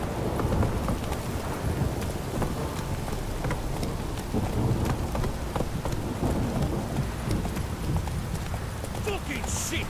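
Steady rain pours and thunder rumbles in the Witcher 3 video game, while a horse's hooves clop along underneath and someone talks over the storm.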